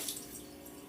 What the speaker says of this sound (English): Gonna rinse that out.